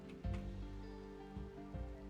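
Rainfall in the video game RimWorld, a soft continuous patter under a low droning game soundtrack, faint and steady with no voices.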